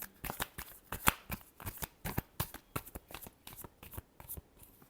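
Tarot cards shuffled by hand during a reading, a steady run of crisp, quick riffling slaps and papery crunches repeating close up, fairly quiet with no talk.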